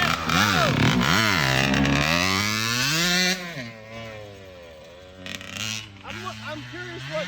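A 1980s Kawasaki KX80 two-stroke dirt bike engine bogging, revving high and raspy before sagging and sputtering, then climbing unevenly again, loud and fairly close.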